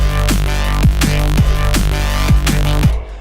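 A buzzy synthesized saw-wave sub bass in liquid drum and bass plays a steady run of short notes, each sliding down in pitch, loud and alone, stopping abruptly at the end.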